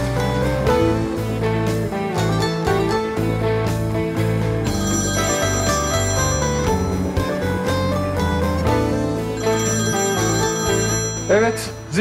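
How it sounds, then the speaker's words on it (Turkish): A school bell rings loud and sustained for about twelve seconds, a steady metallic ringing with a musical tonal layer that carries on without pause. "Evet, zil çaldı arkadaşlar."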